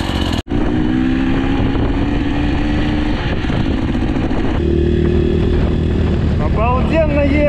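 Regulmoto Holeshot motorcycle ridden on a road, its engine droning loud and steady throughout with wind rush, a brief dropout near the start and rising revs toward the end; people talk over it.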